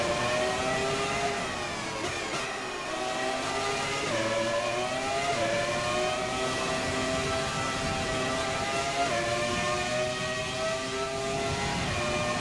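Open-wheel F1 cars in a modded racing video game, engines revving and shifting through gears in a continuous loud drone of rising and falling pitch, with no talk over it.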